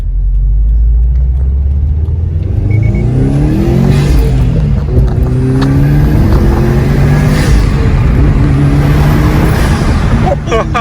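A car running a COBB Stage 1 tune accelerates hard, its loud engine note climbing steadily in pitch through the gears, close and continuous under voices talking over the run.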